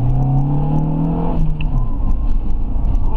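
A Renault Scenic RX4 running fully on LPG accelerates, its engine note rising steadily, then easing off into a rougher, lower rumble of road and engine noise, heard from inside the car.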